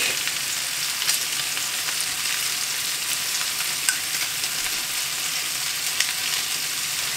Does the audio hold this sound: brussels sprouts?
yes